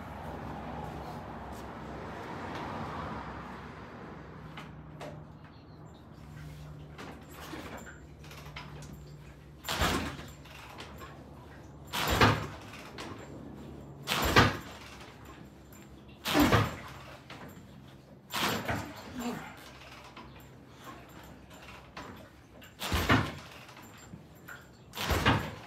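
Kick-start attempts on a 1971 Norton motorcycle with the throttle held wide open: about seven loud, sharp mechanical thumps spaced a couple of seconds apart, each standing alone over a quiet background without the engine catching.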